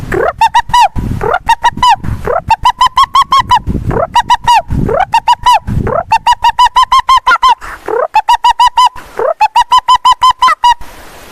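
A man repeatedly imitates a pigeon call, loud and close, in rhythmic bursts of quick hooting coos separated by short pauses.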